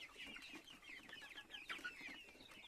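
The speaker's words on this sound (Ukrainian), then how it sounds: "Голодні бідні курчата зранку." Many small chicks peep and cheep together in a busy, continuous chorus, high-pitched and fairly close, with no talking.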